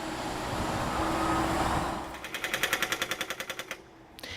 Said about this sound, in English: the contractor encountered rock and needed to switch to a pneumatic chisel head to break up the rock for removal.